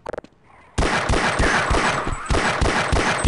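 Rapid automatic gunfire from the Half-Life 1 video game, a few quick shots at the start, a brief pause, then a continuous loud close-range burst of evenly spaced rounds lasting about two and a half seconds.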